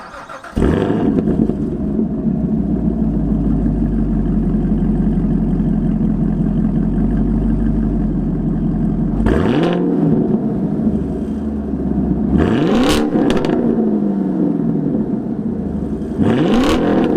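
A Chevrolet Camaro SS 1LE with a broken-in Boiler axle-back exhaust warm-starts with a sharp bark, settles into a steady, deep idle, then is blipped through three quick revs near the end, loud and close.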